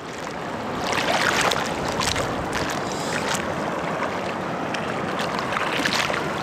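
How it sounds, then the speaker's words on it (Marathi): Flooded river rising fast at a camping spot, a continuous rushing roar of turbulent water that swells after the first second and holds steady, with no talk. "पूर आलाय आणि पाणी ना एकदम फास्ट वाढतंय"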